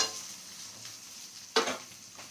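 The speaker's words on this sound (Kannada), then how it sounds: "ಸೊ ಈರುಳ್ಳಿ ಬಾಡೋ ತನಕ ಎಣ್ಣೆಯಲ್ಲಿ ನೀಟಾಗಿ ಫ್ರೈ ಮಾಡ್ಕೊಳ್ಳಿ" Onions frying in oil in a pan for green chicken gravy, a quiet low sizzle broken by one sharp scrape of a spoon and a fainter stir just after, heard close with no voices.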